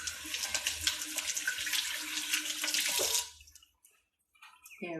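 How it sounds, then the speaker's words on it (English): Tap water runs steadily as juicer parts are rinsed, a close splashing rush that cuts off abruptly, leaving faint handling clatter of the parts. "Let me rinse."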